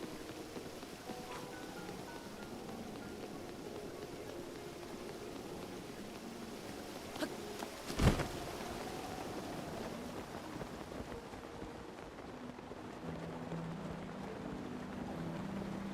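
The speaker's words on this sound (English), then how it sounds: "You can see the wind this time, not just hear it." Wind blows in a video game played on a Nintendo Switch 2, a steady broadband rush with low rumble and faint tonal layers that holds throughout, briefly interrupted by a sharp soft knock midway.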